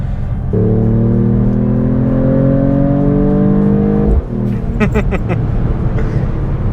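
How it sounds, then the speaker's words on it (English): A Mercedes-AMG E53 hybrid wagon's straight-six engine revs loudly and close, a steady rumbling drone rising slightly in pitch for about four seconds before cutting off, followed by quieter idle and a few clicks. "I really like the sound. It is not very BMW-esque straight 6 actually. It's really rumbly."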